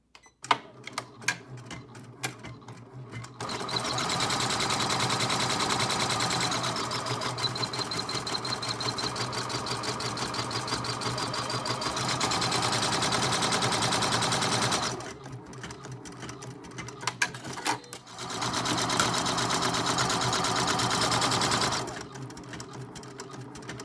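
Steady, close mechanical whirring and rapid needle clatter from an embroidery machine sewing decorative stitching on a bunny girl face bracelet, running in long continuous stretches with brief pauses between them.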